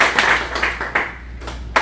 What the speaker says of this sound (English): give Drupal themers a round of applause in general